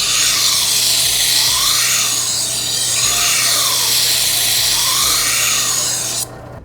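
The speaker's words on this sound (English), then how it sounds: "I'm gonna move on to the wheel here." A sharpening wheel grinding a Japanese knife, a loud continuous rasping hiss with repeated sweeping passes of the blade across the wheel, then cutting off abruptly at the end.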